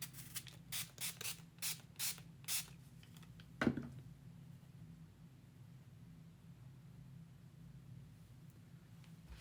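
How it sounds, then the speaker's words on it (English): A quick series of about eight short hissing sprays from a spray bottle wetting paper, followed by a single thud and then quiet. "And then I'm going to spray them with water."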